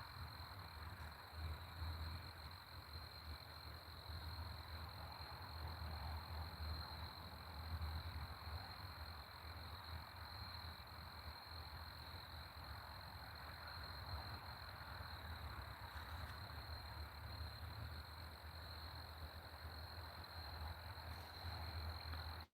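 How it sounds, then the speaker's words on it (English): Insects and frogs chorus steadily at sunset outdoors, a dense continuous high trill over a low croaking bed, moderately distant with no talking. "We're just listening to the insects and watching the sun go down."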